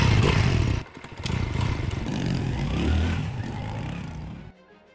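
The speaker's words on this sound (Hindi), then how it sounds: "मेरी बाइक रेडी हो चुकी है और मैं निकल रहा हूँ।" A motorcycle sets off, its engine loud and close with clattering mechanical noise, then cuts off abruptly near the end.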